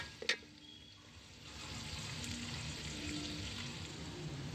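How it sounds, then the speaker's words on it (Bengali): Onions sizzle in hot oil for mutton biryani, a steady close frying hiss after a brief clatter at the start, with no talking. "পেঁয়াজগুলো ভাজা হচ্ছে"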